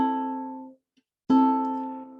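Two ukulele plucks sound on three open strings at once, fingerpicked: a clear ringing chord that decays, a short silence, then a second identical pluck that rings out, close and alone.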